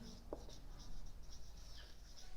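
Marker or chalk strokes on a board as a math formula for derivatives is written out, soft scratchy squeaks in short runs, close but faint over room noise.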